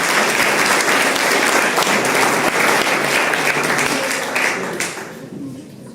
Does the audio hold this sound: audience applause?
yes